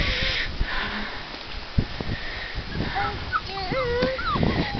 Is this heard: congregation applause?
no